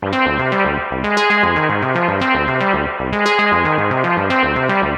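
Loud, continuous music processed through the Pulsar Audio Primavera reverb plugin, with heavy effects, layered echoes and a smeared, wide wash of sound with some grainy, distorted artifacts throughout.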